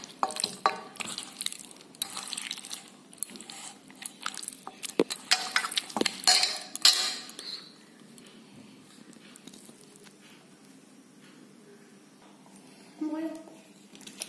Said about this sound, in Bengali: এগুলো ভালো করে এই মশলাটা দিয়ে মাখিয়ে দেবো